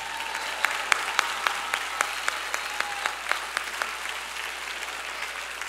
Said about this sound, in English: y'all ain't got to clap for it